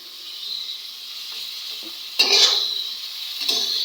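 Food frying in a pan is stirred, a steady sizzle running the whole way with a few louder scraping stirs.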